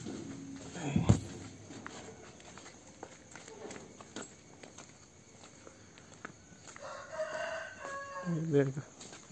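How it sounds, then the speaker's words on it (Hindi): A rooster crows in the distance near the end, over quiet rural village night ambience with a brief thump early on and faint background talk. "देख मुर्गा तो कर रहा है"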